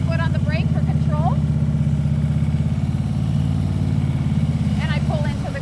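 A motorcycle creeping slowly into a garage on the clutch: a steady, low idling engine throb runs throughout while someone talks over it.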